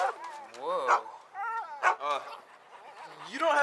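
Several dogs yip and bark in quick high-pitched bursts, close by, overlapping with excited human voices and whimper-like cries throughout.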